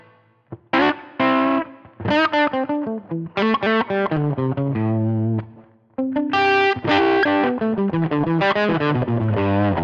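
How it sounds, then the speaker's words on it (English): Distorted electric guitar through a Helix US Small Tweed amp model playing a melodic line of sustained notes, with a spacious plate reverb tail washing around each phrase. "we'll bring that plate reverb in there."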